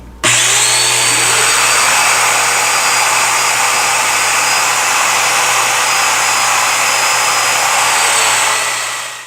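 A Festool Domino joiner plunge-cuts mortises into wooden table legs and rails, its motor whining at a loud, steady pitch for several seconds before spinning down at the end, with no talk.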